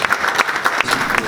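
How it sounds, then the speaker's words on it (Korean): Audience applause welcoming a speaker at a textile industry innovation forum in the National Assembly, a steady wash of many hands clapping throughout, with faint voices underneath. "큰 박수로 맞이해 주세요."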